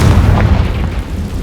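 Confringo explosion spell blast in the Hogwarts Legacy video game: a loud, heavy boom with a thick low-end rumble that rolls on and then fades within about a second.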